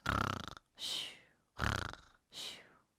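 A child imitates a bear snoring: four rough breathy snores, alternating rattly inhales and airy exhales, close and fairly quiet.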